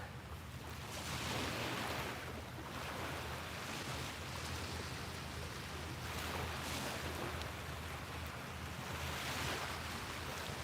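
Ocean waves at a beach wash in and out in slow broad swells, a continuous soft surf roar rising and falling every few seconds, fairly faint with some wind rush.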